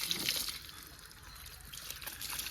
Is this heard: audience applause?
no